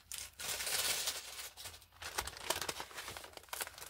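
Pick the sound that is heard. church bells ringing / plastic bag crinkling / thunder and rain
plastic bag crinkling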